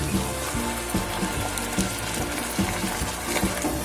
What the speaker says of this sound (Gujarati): લસણ થોડું સંતળાય એટલે આપણે જે ડુંગળીની ગ્રેવી બનાવેલી હતી તે નાખીશું